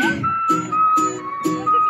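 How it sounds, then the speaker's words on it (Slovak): A live children's concert crowd whistles a sustained tune together, rhythmic pulses of whistling over a steady beat, loud and close. "A pískame!"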